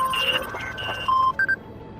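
A burner phone in a VRChat roleplay warehouse gives off a series of short electronic tones, some held and some clipped, close and clear over a low background hum with no talking.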